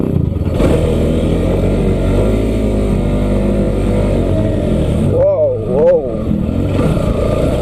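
An off-road motorcycle engine labours loudly and steadily up a slope on a motocross trail, with a couple of rising revs near the end as the tyres spin; no speech is heard.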